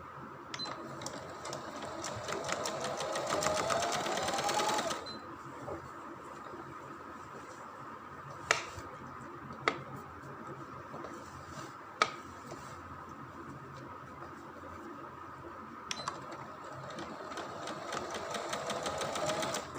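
A sewing machine stitches elastic onto trousers in fast, steady rattling runs at the start and end, with a quieter idle stretch and a few sharp clicks in between.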